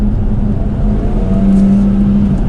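A Jaguar F-type P380 engine pulling under full throttle, a loud steady droning roar with a strong low hum that rises slightly in pitch, heard from inside the car without talk.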